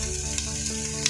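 Onions sizzling steadily in a pan with chili cheese dog fixings, a dense continuous crackle with a few sharper pops, close and alone with no talk.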